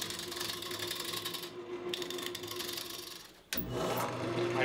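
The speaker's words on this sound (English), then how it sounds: "I take my carbide cutter and start to bring the blank into round." A carbide cutter meets a spinning wood blank on a lathe, giving a continuous rattling, ratchety scrape over the motor's hum that pauses briefly and then resumes louder.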